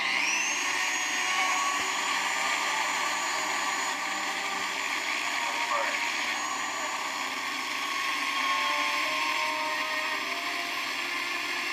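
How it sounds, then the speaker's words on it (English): A power tool grinds steadily through the metal frame of an iPhone X, sending off sparks, making a continuous loud whining roar with slight pitch shifts. "The metal is cutting through and it did have some sparks"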